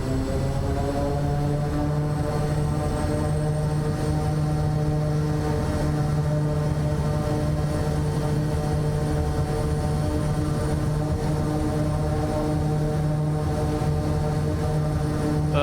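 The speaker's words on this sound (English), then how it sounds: "felt motion when that plane moved." A Kodiak 100 turboprop airplane's propeller engine droning steadily nearby, a loud continuous hum with strong tonal harmonics that holds constant throughout, no talking.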